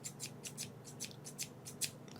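Scissors snip crisply and rhythmically close to the ear in a quiet ASMR setting, roughly a dozen bright cuts spaced about a quarter second apart.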